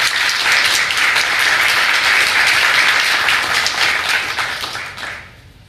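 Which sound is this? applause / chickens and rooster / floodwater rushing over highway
applause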